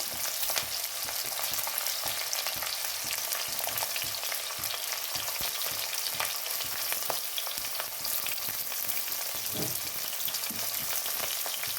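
Onions and green chillies frying in a pan with oil, a steady dense sizzle throughout with occasional stirring sounds, close and continuous.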